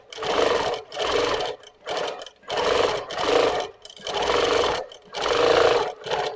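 Moxie XL 18-inch longarm quilting machine stitching in bursts, a steady loud motor whir broken by short pauses about every second as the quilter moves the fabric.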